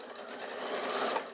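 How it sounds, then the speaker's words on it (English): A sewing machine runs steadily for a moment while stitching a fabric baby bag, a continuous close whirring with no voices. "we're going to sew over that and back stitch a little bit"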